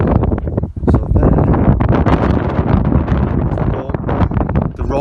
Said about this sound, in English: Now that wind's terrible.